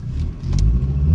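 A Mercedes 190D 2.5 diesel with its factory air filter accelerates hard, a loud steady low engine rumble close up, brief and unbroken.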